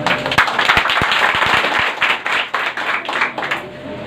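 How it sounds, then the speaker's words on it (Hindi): A classroom group claps hands in a dense, ragged burst of sharp slaps, loud and close, with a few distinct strong claps standing out through the four seconds; no voices. "बजाओ ताली तो।"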